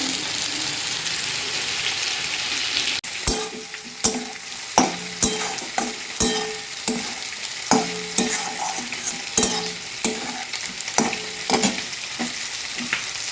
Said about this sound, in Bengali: জিরা, কাঁচা লঙ্কা আর একটু শুকনো লঙ্কার গুঁড়ো দিয়েছি। মশলাটা ভাজা হলে ঝোল দিয়ে দেব।